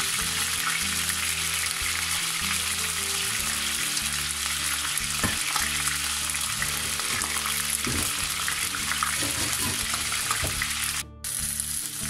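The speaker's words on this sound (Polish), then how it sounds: "Szynka nam się pięknie obsmażyła" A whole ham sears in a very hot frying pan, giving a loud, steady sizzle with crackling pops throughout, close by and without speech.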